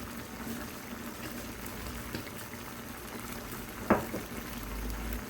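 Chicken adobo with ketchup simmering in a pan, a steady low bubbling boil with a brief clink of a utensil near the end, heard up close with no talk.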